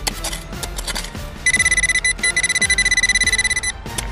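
A metal detector used for treasure hunting gives a rapid, steady run of high electronic beeps that turn loud partway through, with scrapes and thuds of digging in the ground underneath.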